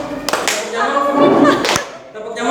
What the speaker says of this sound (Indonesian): Lagi, ayo secepatnya tepuk nyamuk